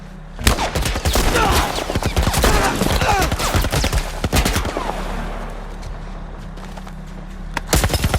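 Gunfire in a video game involving a heavily armoured vehicle: loud, close rapid bursts of shots with clattering impacts for several seconds, then a quieter lull and a few more sharp shots at the end, with brief background voices.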